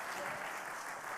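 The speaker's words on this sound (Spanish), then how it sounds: "un fuerte aplauso para Nico" An audience applauds a guest lecturer, a teacher, introduced at an evening talk on bilingual programs, with dense, steady clapping held at a constant level throughout the short burst.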